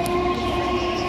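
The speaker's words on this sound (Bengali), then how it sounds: "এটা কোন ট্রেন বেরিয়ে গেল রে?" A Sealdah local train passes nearby with a steady, loud rumbling drone and a sustained tonal whine, without talking.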